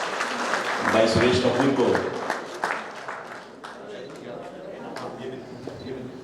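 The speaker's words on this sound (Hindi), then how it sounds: "तालियां बजाकर हौसला अफजाई जरूर करें" Clapping from the crowd at a Sindhi community award ceremony, rising briefly under an announcer's amplified voice speaking over a hall PA.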